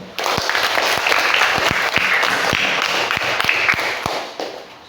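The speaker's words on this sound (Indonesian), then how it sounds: "Tepuk tangan untuk mereka." Schoolchildren in a classroom clap for classmates who gave correct answers, a loud burst of many small hands with sharp distinct slaps standing out, continuing evenly for several seconds.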